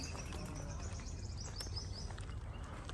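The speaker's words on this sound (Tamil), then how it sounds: "குருவி சத்தத்தோட காட்டுக்குள்ளே போகிற மாதிரி ஒரு ஃபீலிங்கு" Sparrows chirp faintly and intermittently in a date palm oasis in Al Ain, UAE, their high tweets sitting over a steady, noisy outdoor background.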